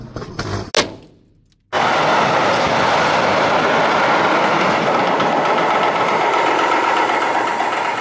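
A train rushes past close by during a regional rail journey in Germany. After a brief quieter moment it bursts into a loud, sustained roar of rumbling wheels and rattling carriages that holds steady to the end.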